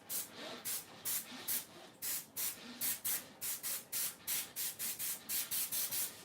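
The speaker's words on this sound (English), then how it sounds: "spray your air out first, Sharon." Short bursts of compressed air spraying hiss repeat in a quick, steady rhythm, close by, with no talking.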